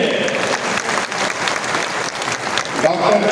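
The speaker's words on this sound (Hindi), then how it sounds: "जोर से ताली बजनी चाहिए" Loud, dense applause from a large crowd at a political party stage event in Bihar, sustained throughout with a slight swell near the end.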